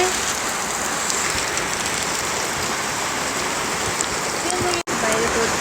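Heavy rain pours outside in a village at Tarji, Khaniyabas, making a loud, dense, unbroken hiss close by that fills the whole stretch with hardly a break.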